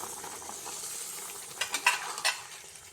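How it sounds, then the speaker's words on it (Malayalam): Chicken curry masala with added water is stirred in a pan, a faint low sizzle with a few soft spoon scrapes and knocks clustered toward the end. "ഇനി നമുക്ക് എല്ലാം കൂടി ഒന്ന് നല്ലതുപോലെ മിക്സ് ചെയ്യാം"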